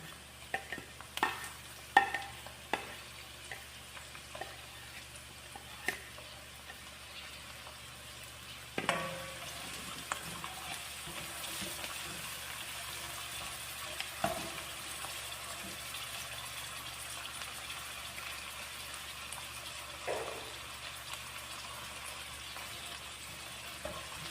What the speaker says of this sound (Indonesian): Ini si bawang putih sama bawang merah sudah saya masukkan ke dalam minyak yang sudah panas ya